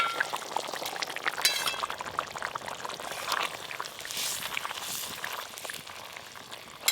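Fried rohu fish pieces go into a simmering bitter gourd and potato curry, with soft bubbling, wet splashes and light clinks of a utensil against the pot.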